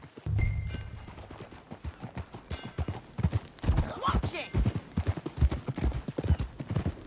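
Steady clip-clop of horse hooves trotting at a regular pace in the video game Red Dead Redemption 2, moderately close, with a brief spoken line early on.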